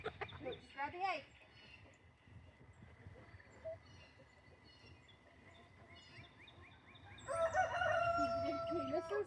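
A rooster crows in a farmyard coop during feeding, a long clear call near the end with clucking fowl around and people talking earlier.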